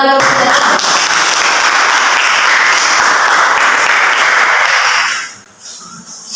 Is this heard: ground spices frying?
no